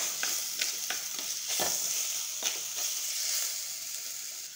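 Kerala-style sardine curry ingredients fry in a pan with a steady bright sizzle, broken by a few short scraping stirs, close and fairly quiet, no voices.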